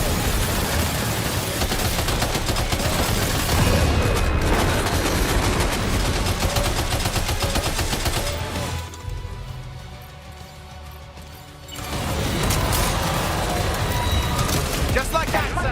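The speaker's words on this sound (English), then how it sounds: "Opening fire now." Rapid sustained gunfire in Death Stranding 2 rattles as dense automatic bursts, loud and continuous, broken by a short quieter lull before the firing resumes at full intensity.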